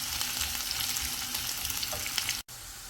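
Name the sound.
onions frying in oil with spices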